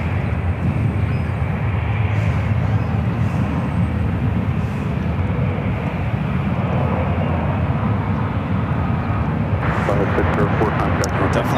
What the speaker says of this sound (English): Qatar A350 heading to the 2-8s.